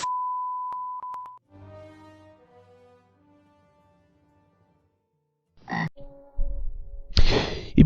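Deep throaty frog croaks in the video game Resident Evil 7, preceded by a steady electronic tone and low drawn-out groaning, with loud rough croaking bursts near the end.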